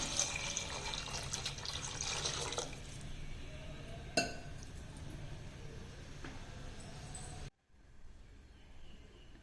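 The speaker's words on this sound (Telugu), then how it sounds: "వాటర్ పోసుకోవాలి" Rushing splash of water poured into a pot, easing to a softer trickle before stopping abruptly, followed by quiet room noise.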